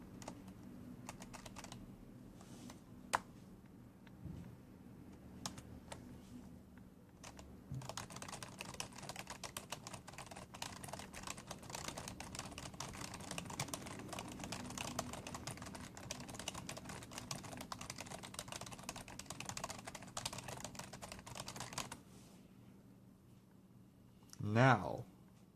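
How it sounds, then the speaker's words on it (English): Keys clatter on a Razer DeathStalker keyboard in a steady, fast, continuous rhythm of close, quiet clicks for over twenty seconds, ending in a brief louder burst. "it is surprisingly enjoyable to type on this particular"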